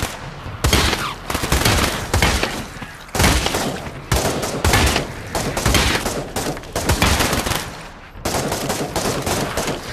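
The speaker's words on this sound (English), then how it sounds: "Oh, machine gun." Sustained automatic gunfire from a machine gun in the Pavlov VR shooter game, loud dense bursts rattling almost continuously with brief gaps between volleys.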